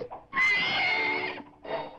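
A single loud, drawn-out horse whinny that rises and wavers, followed after a short pause by a shorter second neigh.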